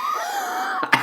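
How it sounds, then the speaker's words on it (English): A person coughs twice in quick succession at the very end, sharp and close, after a drawn-out vocal sound during commentary on a life simulation game. "that was an actual cough"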